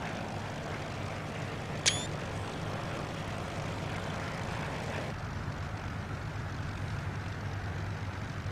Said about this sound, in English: it's a fighter plane